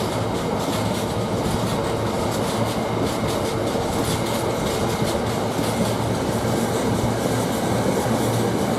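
Class 66 freight locomotive 66715 rumbles through Ely station hauling wagons, a loud, continuous roar of wheels and rattling cars that stays steady from start to finish, with no talk.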